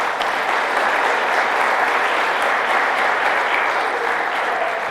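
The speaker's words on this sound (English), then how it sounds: "So let's give them a round of applause." Steady, dense applause from an audience at a school district STEM opening day event, loud and continuous for about five seconds with no talk over it.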